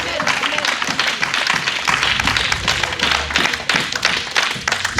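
A church congregation claps and cheers together in a dense, steady burst of applause that runs loud and unbroken throughout, with voices mixed into the din.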